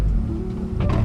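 A manual 9th-generation Honda Civic Si pulls away from a stop with a low, steady engine rumble heard from inside the car, rising slightly near the end.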